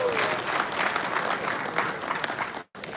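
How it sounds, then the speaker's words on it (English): Audience applause at a community event in Montreal, a dense burst of clapping from a crowd that holds steady, then cuts off abruptly near the end before resuming briefly. "And a big round of applause for ourselves."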